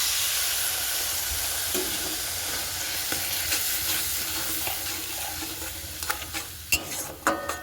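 Patol and goat fat fry in a wok with a steady loud sizzle and hiss, while a spatula stirs and scrapes the mixture, its clinks and knocks growing more frequent toward the end.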